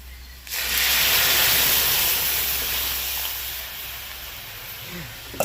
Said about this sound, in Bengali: এইবার ডালটাকে ঢেলে দেবো